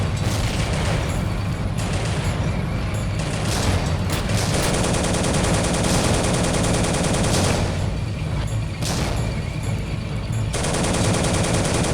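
Sustained machine gun fire and battle noise from the World War 2 game Soldiers: Heroes of World War 2, a loud, continuous dense rattle of gunfire with booms and bursts, no talking.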